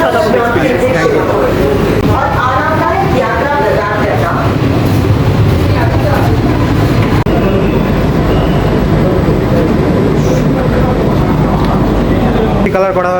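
An air-conditioned EMU local train runs from Sealdah toward Ranaghat, a steady rolling rumble with wheel clatter inside the coach, while a person talks over it.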